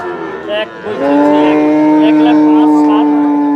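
A Friesian Australian cow at a rural cattle market lets out a long, loud, close moo that holds steady for several seconds, preceded by brief crowd noise and voices.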